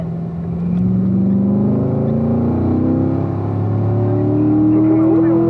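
A car brakes into turn 5 on a race track, its engine note steady and loud, with pitch sweeps as it changes gear and a person talking over it.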